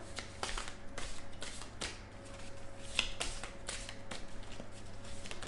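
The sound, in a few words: tarot cards being handled and laid out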